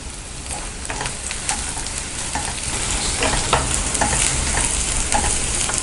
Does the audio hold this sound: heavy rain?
no